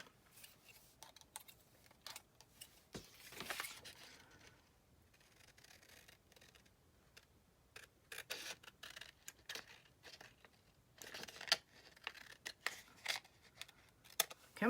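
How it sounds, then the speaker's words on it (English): Scissors snip and rustle through material in a quiet room, with soft irregular cutting and rubbing sounds close by, the strokes scattered in short bursts. "I'll just get my scissors."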